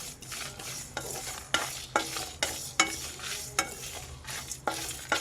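Cashews and garlic cloves roasting in a hot pan for a bitter gourd gojju masala, with a steady sizzle and repeated scraping stirs about every half second, close and clear with no talk.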